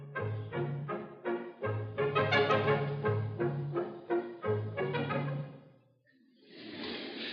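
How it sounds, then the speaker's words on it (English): An orchestra's brass section of trumpets, trombones, tuba and French horns plays loud, rhythmic repeated chords over a low bass line, then the music stops and a soft noisy rush follows. "And the third kind are all the brass instruments."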